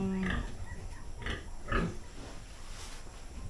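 Piglets about two months old on a farm, giving several close grunts and squeals in the first two seconds, then a low restless background of livestock noise.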